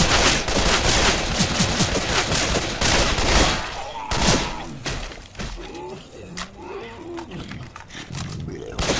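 Rapid gunfire from Left 4 Dead 2 gameplay, dense bursts of shots crackling loudly through the first half and thinning later, with players shouting over the action.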